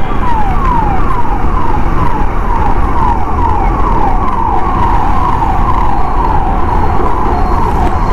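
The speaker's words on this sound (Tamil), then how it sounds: "ஆம்புலன்ஸ் போகுதுங்க." An ambulance siren wailing in repeated rising sweeps on a road at night, loud and steady over dense traffic and engine rumble, with no voices.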